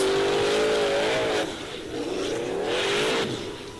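A Formula Offroad car at an Icelandic torfæra event, driven hard over a course gate, engine roaring loud and strained, dipping briefly and then revving up again without pause.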